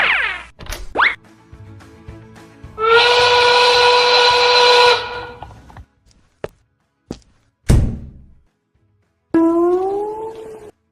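A cartoon-style train steam whistle gives one loud, sustained, bright harmonic blast in the middle, surrounded by short comic thunks, boings and a rising whistle-like effect near the end.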